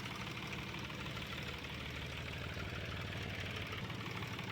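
A tractor engine runs steadily while driving in the Farmer's Life video game, a continuous mid-to-low rumble with a faint knocking texture, moderately loud and unbroken throughout, no voices.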